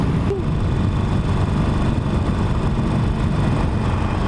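Harley-Davidson motorcycle engine at riding speed, a loud continuous rumble mixed with wind roar, steady and close throughout, no talking.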